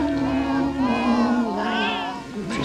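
A cat meows and yowls in the 1984 film Gremlins, drawn-out wavering cries running close and loud over a dense background, with some voice-like overlap.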